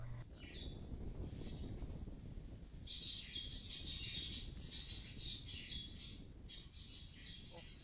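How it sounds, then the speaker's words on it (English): Recorded calls of the Kakerori, a Rarotonga flycatcher, played through speakers in the Takitumu Conservation Area forest: repeated high squawking, chirping phrases over a windy, rustling background, fairly close and clear. "The team will play the Kakerori calls through these speakers"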